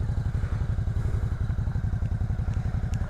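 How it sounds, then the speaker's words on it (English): A motorcycle engine idles close by with a fast, even, thumping beat and mechanical clatter, running steadily throughout without talk. "Oh, my bike just starts right up."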